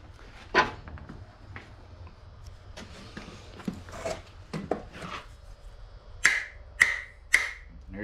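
Hammer blows strike a stuck ECM part on a 1996 Jeep Cherokee in a garage: scattered sharp knocks, then three loud, evenly spaced metallic hits near the end, with no talk.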